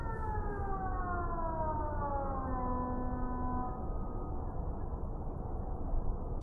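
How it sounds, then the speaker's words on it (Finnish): A civil defense air raid siren wails outdoors in a Finnish natural setting, its tones sliding slowly downward in long overlapping sweeps, fairly distant and soft over a constant broadband background noise. "Se on pommisireeni."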